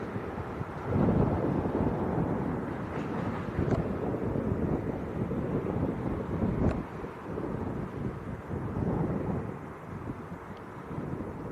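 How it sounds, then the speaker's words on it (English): Gusty wind roars across the microphone at Leeds Bradford Airport, a loud, continuous rumbling buffet that swells and eases over several seconds. "Bit of a lull in the wind at the moment."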